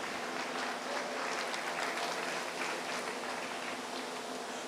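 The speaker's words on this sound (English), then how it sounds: "Let's give our Holstein steer exhibitors a round of applause real quick." Audience applause for Holstein steer exhibitors at a 4-H dairy beef show, a steady even patter of many hands, moderately quiet and unbroken throughout.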